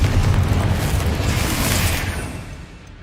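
Confringo blasting spell explosion in the Hogwarts Legacy video game: a loud, sustained booming blast with dense rumble that slowly fades over a few seconds, with no talking.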